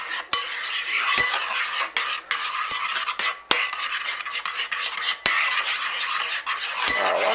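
Cookies and cream brownie batter is stirred in a bowl, a thick wet swishing with sharp utensil knocks against the bowl at irregular intervals, close and alone.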